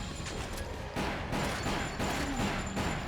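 Rapid bursts of gunfire from the Resident Evil video game, dense overlapping shots in quick succession under a busy, loud game soundscape.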